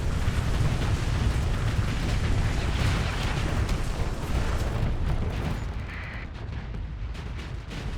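Missiles firing and exploding in a video game make a dense, continuous roar of loud, overlapping booms and blasts that barely let up across the whole stretch. No one speaks.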